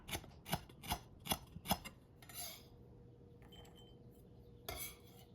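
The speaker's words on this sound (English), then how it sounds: "we're gonna cut up lemongrass" A knife chops lemongrass for a Thai snow fungus salad, Yum Talay: five crisp, evenly spaced cuts in a steady rhythm, then a few softer scrapes and one last chop, close and quiet.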